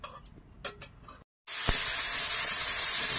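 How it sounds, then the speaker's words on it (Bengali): Prawns dropped into a hot pan, a sudden loud hiss bursting in after a brief silence and then holding as a dense, even sizzle close by. "চিংড়ি মাছগুলো এবার ভেজে নিচ্ছি কিন্তু।"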